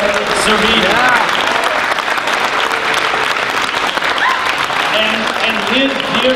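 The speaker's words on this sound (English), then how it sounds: "give a very warm round of applause for the incredible, the legendary, the amazing Mr." A film festival audience gives loud, sustained applause for actor Paul Sorvino on his birthday, with voices calling out over the clapping.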